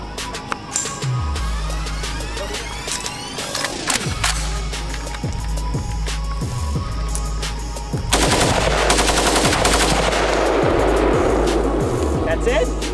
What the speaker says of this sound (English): This is an AK-47, full automatic.